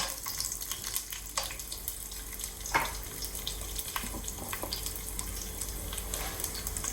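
Mustard seeds, cumin, garlic and dried chillies fry in hot peanut oil, giving a steady close sizzle with scattered sharp pops and crackles over seven seconds, with no voices.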